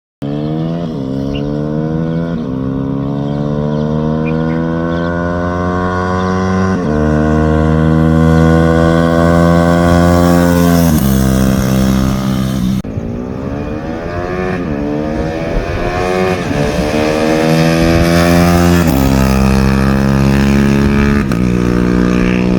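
A loud Bajaj Pulsar NS200 motorcycle engine with the silencer removed revs up and down repeatedly, its exhaust roaring and rising in pitch with each throttle pull, very close.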